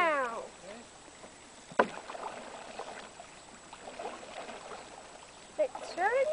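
Canoe being paddled on water in poor weather during a lesson, faint dips and swishes under steady outdoor noise, with a brief knock and voices nearby at the start and end.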